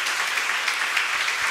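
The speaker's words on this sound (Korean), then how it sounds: "우리 다 같이 축하의 박수" A church congregation gives a short burst of congratulatory applause during an ordination thanksgiving service, a steady wash of many hands clapping, even and moderately loud with no pauses.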